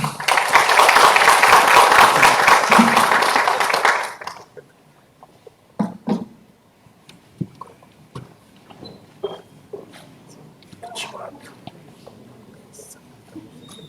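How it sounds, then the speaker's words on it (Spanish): Applause from the audience after a presentation by an executive president at a talk on El Niño and global warming: a dense burst of clapping for about four seconds, then it stops abruptly, leaving scattered taps, rustles and faint murmurs. "Les damos fuertes aplausos."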